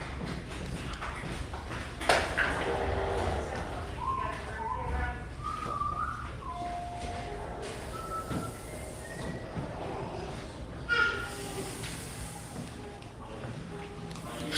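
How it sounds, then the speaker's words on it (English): A Carolwood Pacific railroad train rolls along at Disney's Wilderness Lodge Resort, its wheels squealing in several thin, sustained tones, some distance away and fairly faint, with people talking in the background. "The Carrollwood Pacific Fairweather Route Railroad."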